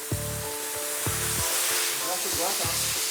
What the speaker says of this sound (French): Ça, c'est de la vapeur sèche, en fait.